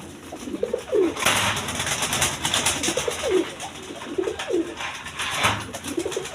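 Several pigeons, among them coloured Rajgolla birds, coo repeatedly in a rhythmic series of rolling calls, near and clear, with rustling wing noise between phrases.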